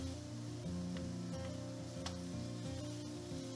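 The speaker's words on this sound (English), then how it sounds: "add in 1/2 pound of lean ground beef and break it up into small pieces with a spatula" Lean ground beef frying in a skillet and being broken into small pieces with a spatula, a quiet steady sizzle with a few faint scrapes, under a low background hum.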